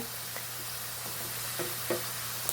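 Homemade potato chips frying in darkened, all-day-used hot oil, a steady broadband sizzle with a few soft pops and stirring bumps.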